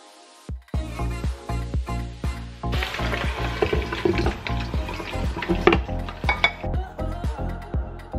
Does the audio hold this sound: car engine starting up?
no